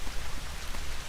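Heavy rain falls steadily at a nature preserve, a dense, even hiss of drops striking surfaces close by, with no voices over it.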